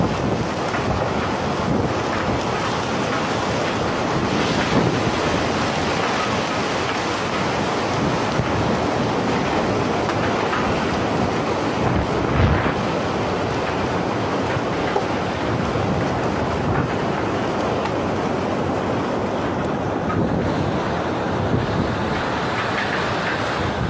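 A wind and rain storm roars steadily over rural farmland, a dense, loud, unbroken rush with gusts buffeting the microphone and no voices throughout.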